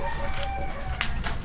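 A chicken on a rural vegetable garden plot gives a short burst of clucking and crowing-like calls, close by, over a steady background hum with no talk.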